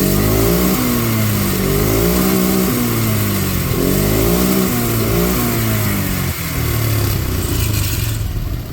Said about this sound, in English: We'll give it some full throttle and see if it chokes out at all.